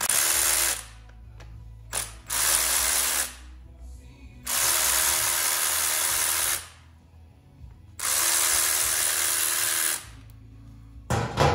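Three long bursts of a power driver whirring close by as Allen bolts come out of a 1986 Yamaha XT350 cam chain tensioner, separated by quiet gaps with brief clicks and knocks.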